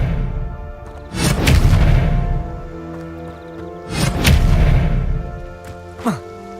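Blasting Confringo spell explosions from the Hogwarts Legacy video game: two loud, booming bursts a few seconds apart with a rumbling tail, then a short sharp whoosh, with music playing underneath.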